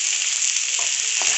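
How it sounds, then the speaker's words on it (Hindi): Chopped cabbage goes into a hot pan for vegetable fried rice over high heat, giving a loud continuous sizzle and frying hiss with a few soft stirring scrapes. "2 कटोरी पत्ता गोभी है इसको भी छोटे छोटे टुकड़े करके डाल रहे हैं।"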